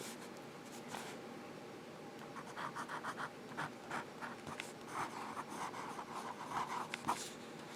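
Custom pen with a size 6 steel Jowo nib scratching across paper, a quiet close series of short strokes and scribbles in an uneven rhythm, with no talking over it.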